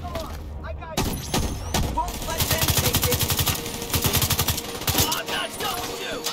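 Rapid bursts of automatic gunfire and shots in The Division 2 video game, loud and sustained with dense rhythmic firing through the middle, alongside game effects and a voice heard under the shooting.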